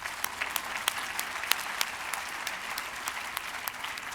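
Audience applause at a large conference gathering, steady clapping from many hands throughout, dense and continuous with sharper individual claps standing out, no speech over it.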